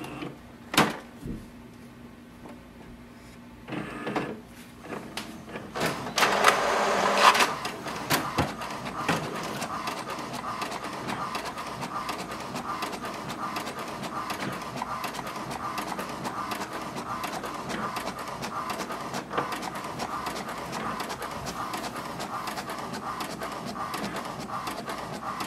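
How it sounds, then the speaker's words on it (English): An HP Deskjet 4100 inkjet printer running a copy test, with a brief mechanical clatter and whir at the start, then a steady, fairly quiet motor hum and carriage noise running on evenly without speech. "Let's do a copy test."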